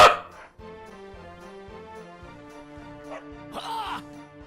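A dog in the video game Dragon Quest XI gives a single sharp bark at the start, then faint whimpering sounds over steady game music.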